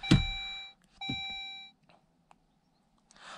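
Two bright, clear electronic beeps in quick succession from a dash cam powering up as a car's ignition is switched on, each with a soft thunk at the onset, followed by quiet cabin sounds and a faint click.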